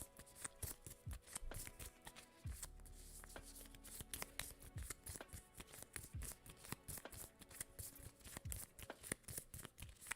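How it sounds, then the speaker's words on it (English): A deck of game cards for a solo paperback adventure game is shuffled by hand, a series of quick riffles and flutters, with soft taps and clacks as the deck is squared between shuffles. "we're going to shuffle these up"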